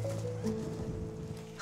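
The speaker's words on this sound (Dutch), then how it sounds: "Harry is een hongerig paard." Harry, a big, hungry cartoon horse in a Teletubbies children's animation, gives a quiet, tonal snort or whinny with soft shuffling, faint throughout.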